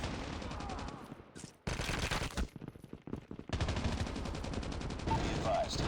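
Sustained automatic AK117 assault rifle fire in Call of Duty Mobile, long rapid bursts broken by brief pauses, loud and close, with in-game voice callouts mixed in.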